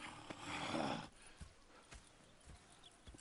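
Horses in the video game Red Dead Redemption 2: a short burst of neighing and snorting up front, then scattered hoof clops on hard ground, fairly faint and unhurried.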